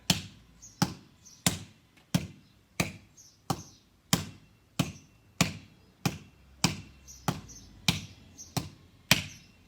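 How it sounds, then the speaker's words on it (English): Hands slap a basketball as hard as possible during a team practice session, giving a steady run of about fifteen sharp, loud, close smacks spaced roughly half a second apart, with no talking. "So as hard as you can, we're slapping the ball."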